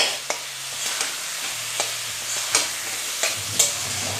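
Spice paste with two small tomatoes fries in a pan for a fish curry, sizzling close and steady while a spoon scrapes and knocks the pan about once a second, no voices.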